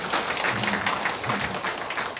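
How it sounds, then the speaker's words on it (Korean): A Catholic church congregation at a Saturday prayer meeting breaks into steady applause, a dense wash of clapping from many hands that fills the room at an even level for about two seconds. "박수 한번 쳐주겠죠?"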